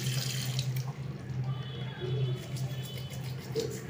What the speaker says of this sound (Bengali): ব্রাশটাকে একটু ধুয়ে নিই,